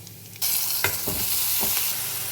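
Pumpkin leaves drop into hot coconut oil with a sudden loud hiss that settles into a steady close sizzle, broken by a few soft stirring scrapes, with no talking.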